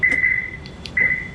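Car lock warning tone sounding because the front bonnet is not closed: a steady high-pitched electronic beep held briefly, a short gap with faint clicks, then the beep returns, moderately loud and close with no voices.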